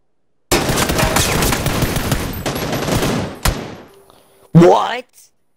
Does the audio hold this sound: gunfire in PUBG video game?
yes